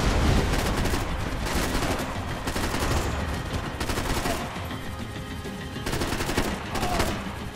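Continuous in-game gunfire in the action shooter Max Payne 3, with an Uzi submachine gun among the weapons, as dense, loud bursts of overlapping shots roll on through the whole stretch with barely a pause.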